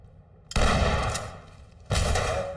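Two sharp, loud shotgun blasts a little over a second apart, breaching a locked door handle in the tactical shooter SWAT, each followed by a short decaying tail.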